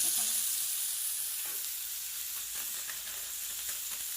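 Chicken fries with masala on a hot tawa for chilli fry, a steady close sizzle with soft stirring scrapes, alone and continuous.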